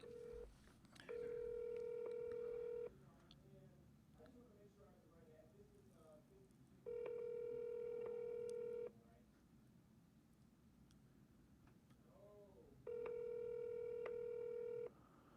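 Touch-tone phone keypad beeps and ringback tones while dialing out for a speakerphone call, three long steady tone bursts separated by quieter gaps with faint background murmur and soft handling noise.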